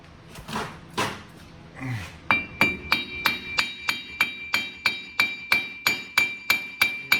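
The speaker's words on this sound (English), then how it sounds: "So all you need to do is just tap it with a hammer." Steady, evenly spaced hammer taps on the metal wheel hub of a 2004 Ford F-150 4x4, each strike ringing with a bright metallic tone, about a dozen in a row after a few duller knocks at the start.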